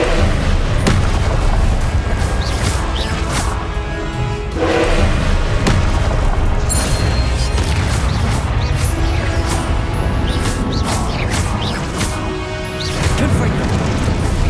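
Repeated Confringo blast spell explosions in the Hogwarts Legacy video game, loud booming and crashing impacts one after another in dense combat, with a voice calling out spells.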